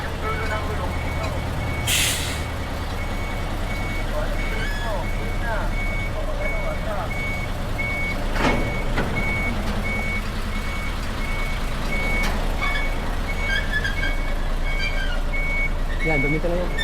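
A truck and trailer reverses during driver practice, its reversing alarm beeping in a steady repeated pattern over a continuous low engine rumble, with air-brake hisses and people talking nearby.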